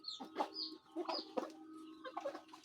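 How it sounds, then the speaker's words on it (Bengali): Native laying hens clucking inside a farm shed, a run of close, overlapping clucks and short calls with no talking over them. "এগুলো দেশি মুরগি,"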